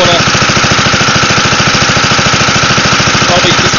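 A Wisconsin AENLD engine driving a Pacific pump chugs steadily and loudly at close range, its rapid, even firing pulses hammering without pause over a broad mechanical roar.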